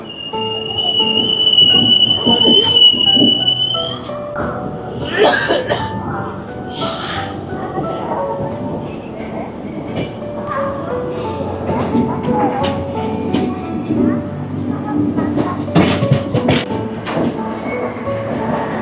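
The Dhauli Express runs alongside on Indian railway track, a loud, close rumble of wheels with metallic squeals and clatter that lasts the whole stretch, while people talk over it.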